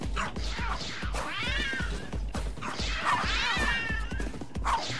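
A fat cat in the video game Tokyo Jungle meows repeatedly, drawn-out wavering calls coming in several bursts across the stretch, close and loud over a busy game soundscape with thumps and hits.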